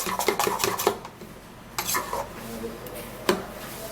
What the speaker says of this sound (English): what you do is stir it all up like that